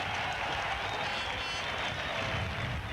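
Crowd noise at a 1988 rugby league match between Leeds and Bradford Northern, a steady broad roar of applause and voices spread evenly across the whole stretch, fairly distant and unbroken.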